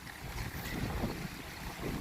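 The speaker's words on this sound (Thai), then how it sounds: "ลมแรงมากเลยตอนนี้นะครับ" Strong wind gusts roar and buffet the microphone outdoors at a Buddhist temple park with a large monk statue in Kalasin, Thailand, a steady broadband rush filling the whole stretch with no speech.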